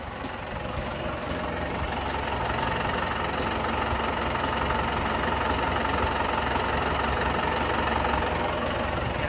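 Engine of a Komatsu 510 wheel loader running steadily, a loud, close, continuous diesel rumble with a rough knocking texture and no break across the whole stretch.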